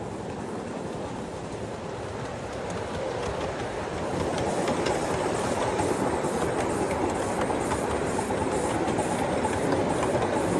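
A 7.5 inch gauge live steam model train running along an outdoor track at a steam meet, with a continuous rumbling rattle of wheels on rails that grows slightly louder partway through as it comes closer.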